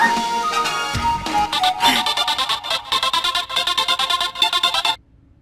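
A mobile phone plays a bright, melodic ringtone loudly and close by, with rhythmic repeating notes that cut off abruptly near the end.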